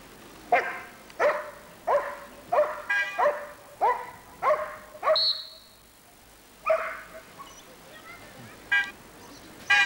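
A dog barks repeatedly in a quick series of sharp yaps, pauses briefly, then barks a few more times nearby, with some voices in the background.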